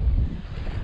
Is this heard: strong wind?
yes